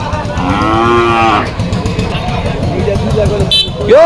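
Cattle moo loudly at a busy Chupair livestock market in Kaliganj, Gazipur, with a long low call up close, buyers and sellers talking over a crowd murmur, and a horn-like toot near the end.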